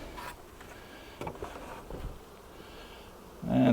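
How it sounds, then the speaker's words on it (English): Honeybees hum and buzz around an open hive full of bees during a honey harvest, a low steady drone close by with occasional bumps and knocks from handling the hive boxes. "That's pretty full of bees."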